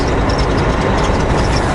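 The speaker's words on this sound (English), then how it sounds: "I just got my jake brakes on level 1, so just barely a little bit of jake brake getting applied here" Truck engine with the jake brake engaged on its lowest setting, a steady low rumbling drone heard from inside the cab, continuous and fairly loud with no talking.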